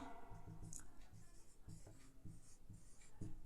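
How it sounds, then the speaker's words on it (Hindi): Pen or pencil scratching on paper while a math solution is written out, soft close strokes in short bursts over a quiet room hum. "तो यहाँ लिख देते हैं, लिखिए क्या"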